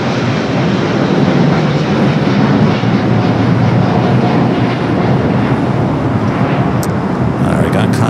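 A Condor airliner moving at Los Angeles airport, heard as a loud continuous broadband engine roar from fairly close, steady over several seconds with a radio voice talking over it.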